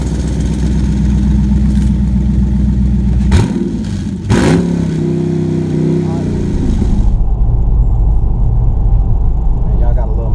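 A 2016 Dodge Challenger Scat Pack with exhaust cutouts open rumbles loudly at idle, then surges in a sharp rev that falls back into a deep, steady burble, very close and dominant throughout.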